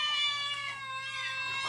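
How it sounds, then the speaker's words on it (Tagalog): Cats meow in a sustained, drawn-out cry with clear harmonic tone, fairly close and alone, ending in a short sharp burst. "Agmimiyaw dagiti pusa, isko."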